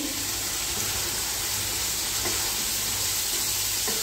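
Steady, dense sizzling of fried hilsa fish in a pan, continuous and close, with faint clinks of stirring.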